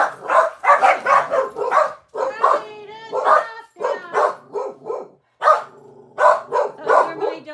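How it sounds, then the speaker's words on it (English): Two household dogs bark repeatedly on a porch, a close, loud run of sharp barks and yips in quick bursts with short gaps. "Those are my dogs"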